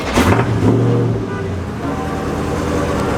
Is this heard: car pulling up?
yes